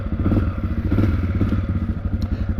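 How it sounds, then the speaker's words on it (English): A 2023 Honda CRF250F dirt bike engine runs at a trailhead in Wyoming, with a close, loud, steady burbling idle made of rapid low thumps and light mechanical clatter. "Initially, she starts real easy as long as it's in neutral."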